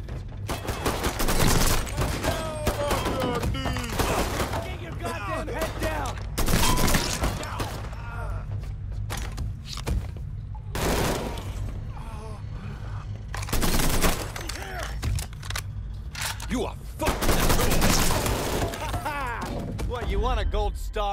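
Gunfights in the game Mafia 3 on PlayStation 4 Pro, with volleys of close, loud shots that recur in clusters alongside character voices speaking throughout.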